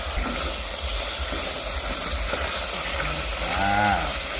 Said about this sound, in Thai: น้ำหัวกะทินี่แหละครับ ใส่พริกแกงลงไปครับ